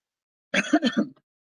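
A single short throat-clearing cough, close and quick, surrounded by silence.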